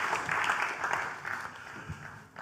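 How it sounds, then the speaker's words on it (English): Audience applause after a presentation on a tokenized economy in Norway, a broad, steady wash of clapping that holds for a couple of seconds and then thins out near the end, with no voices over it. "So let's applaud Nikolai for giving this insight."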